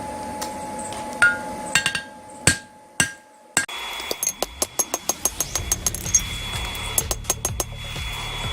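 Hammer blows on a forge weld for an axe at a blacksmith's anvil, starting with a few heavy, separated strikes and then settling into a fast, steady run of ringing metallic hits, loud and close with no talk.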